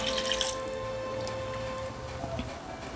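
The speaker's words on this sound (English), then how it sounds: "So I'm just rinsing this into the pot." Water poured from an emptied can into a pot of Nigerian banga soup on a kitchen stove, a steady close trickle and splash with a few drips, no talking.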